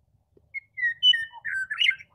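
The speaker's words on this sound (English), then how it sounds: "That's a meadowlark making this awesome, awesome sound." A meadowlark sings a bright run of flute-like whistled notes, several short clear tones rising into a fuller warbling flourish near the end, close and alone against a quiet background.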